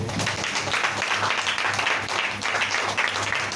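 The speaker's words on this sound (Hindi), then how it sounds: "इस्मान परमेश्वर के एक बार फिर से ताली बजाएं।" A Hindi-speaking church congregation claps together for God, a dense, continuous wash of many hands at an even level filling the room, with no distinct voices over it.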